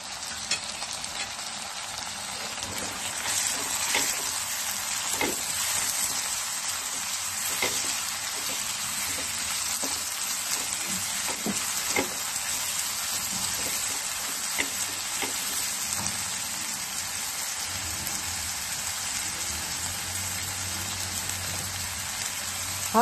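Two large tomatoes frying in a pan for a mixed vegetable sabzi, a fairly quiet, steady hiss of sizzling that runs for the full stretch with faint stirring scrapes, no talking.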